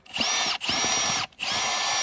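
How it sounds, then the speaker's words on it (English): A cordless drill with a bit augers down into the soil while a bucket is pressed firmly against the ground, giving three loud, whining bursts of motor noise with short gaps between them, near and alone. "and then I run my drill bit"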